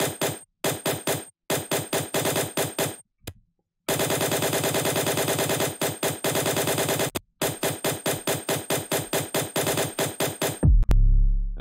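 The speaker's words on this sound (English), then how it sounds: "considering that it's a very machine gun bass as well" Machine gun bass in a riddim track made in FL Studio: loud, rapid-fire stuttering bass bursts in rhythmic chopped runs with brief gaps of silence, ending in a deep sustained low hit.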